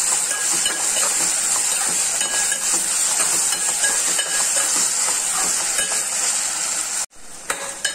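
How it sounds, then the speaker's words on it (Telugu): Chopped onions fry in a pan with salt for a village-style yellow cucumber and tomato curry, a steady loud sizzling hiss that runs nearly unbroken before cutting off abruptly near the end. "इप्पुडु उल्लिपाय मग्गडानिकी साल्ट वेस्तुन्नानु"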